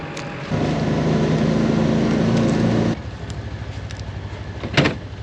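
A farm tractor's engine runs close by with a steady low drone, cutting to a quieter idle midway, with a brief clank near the end.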